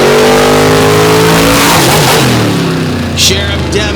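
A Kamikaze monster truck engine roars loudly up close at the Lake Erie All Star Marathon, a sustained high-revving drone with climbing and falling pitch that fills the whole stretch.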